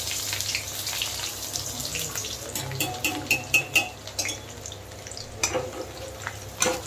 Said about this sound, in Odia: ଏ ପିଆଜକୁ ଟିକେ ଭଲସେ ଭାଜିଦବା।